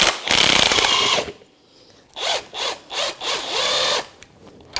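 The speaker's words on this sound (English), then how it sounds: "now we're going to take an 18mm socket, and we're going to take that center cap nut off" A ratchet or impact tool on an 18mm socket works the strut center cap nut on a 2007-2017 Jeep Patriot 2.4L, with a loud burst, a pause, then several short whirring bursts, close and free of talk.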